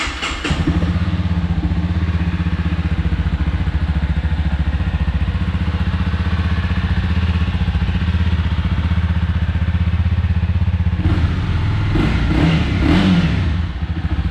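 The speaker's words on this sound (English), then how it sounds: "Nothing really too crazy with that stock exhaust on the CBR 300" A 2021 Honda CBR 300 motorcycle with a stock exhaust starts, settles into a steady, mild engine note close by, then takes several short revs near the end.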